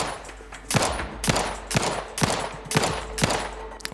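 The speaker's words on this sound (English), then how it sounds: "I'm just gonna shoot you from here." Rapid gunfire in The Outer Worlds 2, roughly seven sharp, loud shots in a quick uneven rhythm over a low steady background hum.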